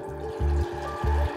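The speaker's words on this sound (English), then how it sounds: "pour a big glass of water" A big glass being filled with water at home in the morning, with two surges of pouring a moment apart, close and clear, no talking.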